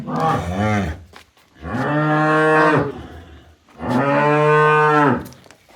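A cow moos loudly three times, long drawn-out calls close by with short pauses between them.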